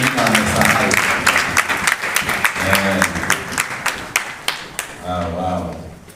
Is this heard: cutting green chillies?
no